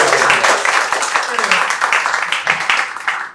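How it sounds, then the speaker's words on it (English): Comedy-club crowd applauding for a few seconds, a dense steady patter of many hands close and loud, with voices mixed in. "Well, give them a round of applause"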